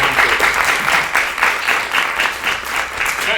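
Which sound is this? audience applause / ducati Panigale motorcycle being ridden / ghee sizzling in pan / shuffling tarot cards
audience applause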